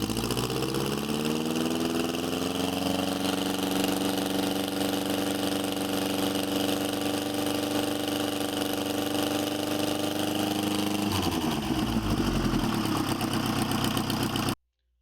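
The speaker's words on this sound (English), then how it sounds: "We ran that engine a total of over 2 hours on that engine test stand" An Excelsior Henderson motorcycle engine with a Marvel Schebler carburetor runs steadily on a test stand, a loud continuous drone that climbs slowly in pitch before shifting to a rougher rhythm near the end.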